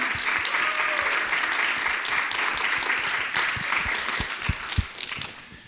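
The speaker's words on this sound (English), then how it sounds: "give a big round of applause for yourselves for being here" An audience at a leadership conversation event applauds steadily and close by, a dense wash of clapping that holds for the whole stretch with a few sharper claps near the end.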